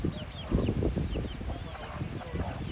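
Wild chickens clucking outdoors by the Rio Grande River in Portland, Jamaica, with scattered soft clucks and calls over a steady background of ambient noise.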